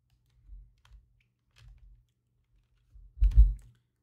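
Computer keyboard keys pressed during 3D rendering work, a few soft scattered taps followed by a louder cluster of presses near the end.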